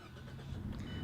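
A 2017 Toyota Yaris iA starts with a push button, its engine catching and settling into a quiet, low idle over about a second.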